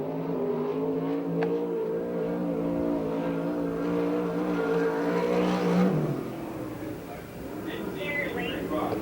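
A USAC/CRA sprint car on a qualifying lap at Perris, California, its engine droning and building in pitch before cutting back, heard from a distance under a public-address announcer.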